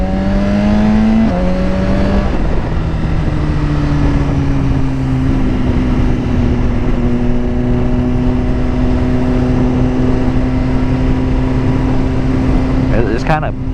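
A Suzuki Gixxer 1000 motorcycle engine revs and shifts from first into second, with a sharp drop in pitch at the change followed by a long steady loud drone, recorded close up with heavy wind noise.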